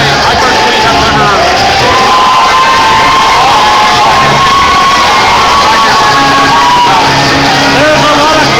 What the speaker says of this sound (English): There's a lot of crowd support for these two as they come into the ring